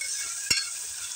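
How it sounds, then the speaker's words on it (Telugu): Vegetables for biryani fry in oil, a quiet even sizzle broken by one short sharp knock of a utensil against the pan midway. "ఈ విధంగా అన్నీ మన వెజిటబుల్స్ ఫ్రై అవుతున్నాయండి"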